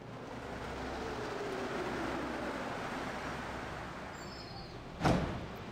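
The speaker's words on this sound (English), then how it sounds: "it's a train that always seems to arrive when you get to the station" A train pulling into a station in Deus Ex: Human Revolution: a steady low rumble and rolling rail hum that swells gently, then a sharp, bright clank or hiss near the end as it comes to a stop.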